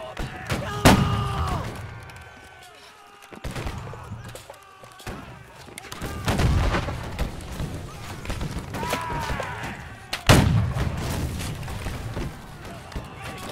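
Scattered gunshots and heavy thuds from the Civil War video game Battle Cry of Freedom, a few sharp loud reports with quieter stretches between them and faint battle noise around them.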